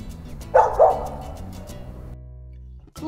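A dog gives two close, loud barks in quick succession, followed by a fading tail and then quiet.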